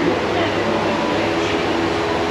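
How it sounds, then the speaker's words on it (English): Ride aboard a train at Gatorland in Orlando, Florida: a steady, close rumble of the moving carriage with broadband running noise throughout, a voice speaking over it. "we're here on a train"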